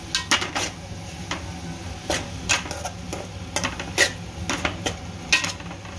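Tomatoes being stirred into fenugreek leaf chutney in a pan, with a spoon scraping and clattering against the metal in irregular bursts over a low background hum and faint sizzle.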